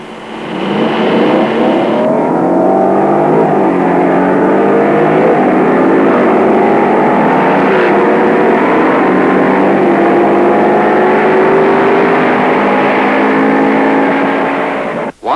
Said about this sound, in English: Next, the 425 horsepower, 409 cubic inch V8. Watch it in action against Ford's 406.